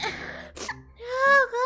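A sneeze during a casual live chat stream, with a strained, breathy sound before a sharp burst, then a high vocal moan trailing after, close and loud.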